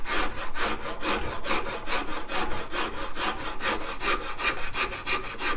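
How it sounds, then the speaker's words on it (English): Hand wood rasp shaping a guitar neck, with fast, steady back-and-forth rasping strokes in a continuous rhythm of roughly three to four per second, loud and close, with no talk over it. "I find that the rasp really works well for me."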